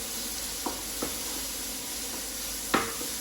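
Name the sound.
red onion sizzling in a pan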